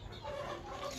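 Soft clucking of chickens, faint and brief, a few short murmuring calls close together.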